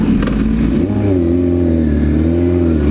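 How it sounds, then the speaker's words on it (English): A car with a loud exhaust revs nearby, a deep rumbling engine note that climbs in pitch and then holds at a steady, droning growl, loud and continuous throughout. "your stupid loud exhaust, which is even pretty loud"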